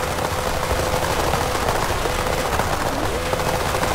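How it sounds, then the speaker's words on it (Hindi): A Lamborghini Sesto in Forza Horizon 5 crackles and pops with rapid backfire bursts over a steady engine roar, loud and continuous throughout, like a string of firecrackers. "लैम्बोर्गिनी सेस्टो, ये गाड़ी भाई मां कसम क्या गाड़ी, पटाखे फोड़ती है इतना तगड़ा"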